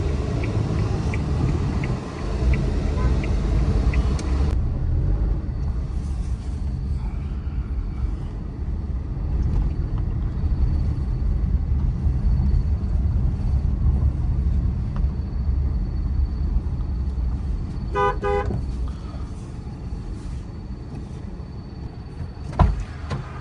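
Steady low engine rumble and road noise of a moving Alto car heard from inside the cabin, droning evenly throughout with a faint high whine and a small thump near the end.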